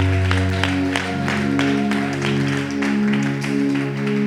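A church congregation claps in rhythm while acclaiming the Lord, steady regular handclaps over a sustained organ or keyboard chord, filling the room with no clear voices.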